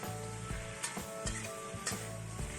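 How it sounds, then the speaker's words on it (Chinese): Fried tofu tossed with wood ear mushroom in a hot wok for homestyle tofu, giving a steady close sizzle broken by periodic scraping stir strokes and light clinks. "翻炒均匀，加入炸好的豆腐"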